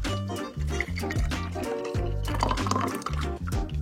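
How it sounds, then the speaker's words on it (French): Bubble tea poured into a can-sized glass, a continuous gurgling liquid pour with bubbly splashes running steadily throughout, set against a layer of background music. "je vais transvaser ça dans un verre qui fait la taille d'une canette"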